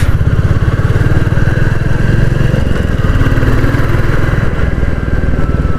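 A Royal Enfield Classic 350 BS6 motorcycle engine thumps steadily and loudly while riding on the road, a continuous close rumble with no talk over it.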